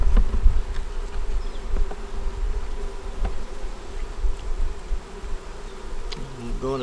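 Honeybees buzz steadily around an open hive with the queen and brood in the top box, a dense continuous drone close by, with occasional knocks and handling sounds.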